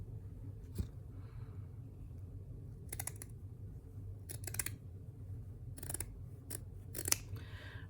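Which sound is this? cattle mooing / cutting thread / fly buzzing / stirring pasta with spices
cutting thread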